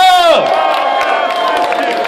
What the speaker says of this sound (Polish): Pani numer cztery wielkie brawa!